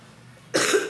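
A single short, harsh cough from a person with a cold, close and loud after a quiet moment, followed by a brief catch of breath.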